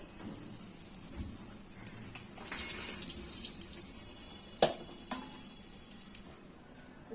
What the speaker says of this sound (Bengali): এবার জল ঝরিয়ে নেব।